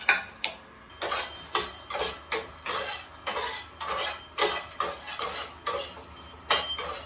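Light whole spices are stirred in a pan for homemade biryani masala, with a steady run of close metallic scrapes and clinks of a utensil against the pan, roughly two strokes a second.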